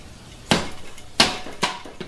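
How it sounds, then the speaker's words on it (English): A hammer taps a 2-4 servo assembly into a transmission case, giving four sharp metallic knocks at uneven intervals, close and moderately loud. "I'm going to get my hammer here and just"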